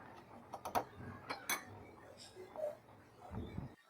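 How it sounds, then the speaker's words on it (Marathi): A pressure cooker lid being fitted and closed over lentils in a kitchen, a few quiet metallic clinks and clacks with soft handling noise, faint overall. "आणि नंतर कुकर बंद केलं,"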